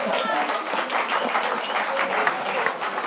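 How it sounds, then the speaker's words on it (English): Audience applause at a final awards event for a Basque-African challenge, a steady dense patter of many hands with voices mixed underneath. "Give it a clap"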